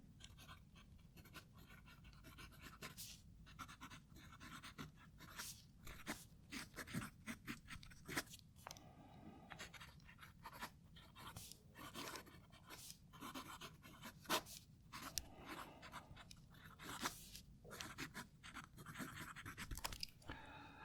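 A Jinhao X159 fountain pen nib scratches across paper in quick, irregular strokes, faint and close, over a low steady background hiss.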